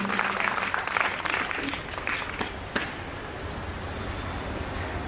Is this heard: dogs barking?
no